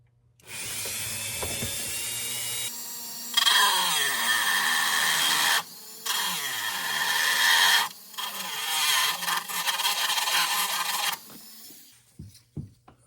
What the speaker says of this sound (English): So I'm going to go ahead and just cut that one out right now, using the same Dremel wheel.